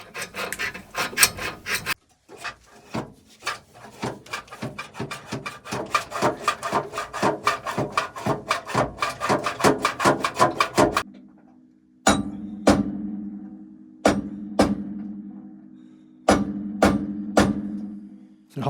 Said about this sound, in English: We have no choice but to cut out the bolts.